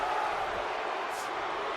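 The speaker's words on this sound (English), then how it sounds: "now you can just hear the crowd on their feet for this phenomenal match" Crowd noise from a WWE 2K wrestling video game match, a steady, dense roar of cheering spectators filling the whole stretch at an even level, with no clear breaks or peaks.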